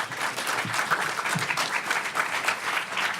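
Steady audience applause fills a panel discussion hall on race and resistance, many hands clapping densely and evenly at moderate loudness with no voices over it.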